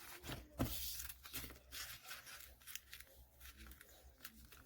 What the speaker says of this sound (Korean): 이번엔 찢는 게 아니라 가위로